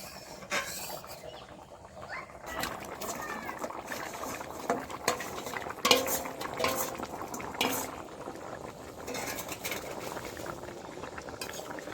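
Large koikka fish slip into a pot of bubbling curry broth, with steady boiling, splashes and clinks of a utensil against the pot, moderately close and ongoing.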